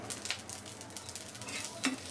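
Whole spices (bay leaf, cardamom, cinnamon, black peppercorns, cloves and cumin) frying in oil make a steady, close hiss that runs throughout, broken by a few brief clinks of stirring.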